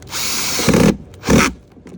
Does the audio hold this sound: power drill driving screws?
yes